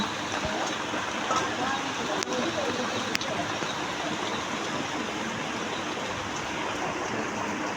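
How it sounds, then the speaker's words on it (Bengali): Heavy rain pours down outdoors as a dense, steady hiss that holds constant throughout, with a couple of faint knocks. "আমাদের এখানে বৃষ্টি নামছে, প্রচুর বৃষ্টি নামছে ভাই"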